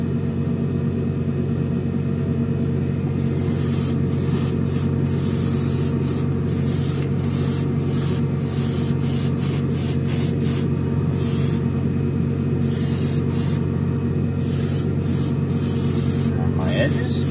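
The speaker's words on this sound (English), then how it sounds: "The airbrush moving" An airbrush sprays metal flake paint onto a 1968 Pontiac Firebird 400 model car, giving a loud, continuous close-up hiss. A low hum sits under it, broken by short repeated gaps as the trigger is pulsed.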